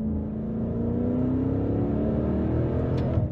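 A Maserati Levante V8 Trofeo SUV engine with 580 horsepower under half throttle from third gear, a steady, rising drone heard from inside the cabin with no talk.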